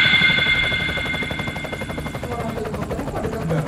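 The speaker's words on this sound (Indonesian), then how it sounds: "Jangan-jangan helikopternya parkir di atas rumah kita." A helicopter flies overhead above a house, its loud rapid rotor chop throbbing steadily throughout with no voices.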